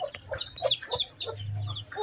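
Backyard hens and chicks clucking softly while being fed leftover scraps and live grubs, short overlapping clucks close by with a low steady hum underneath.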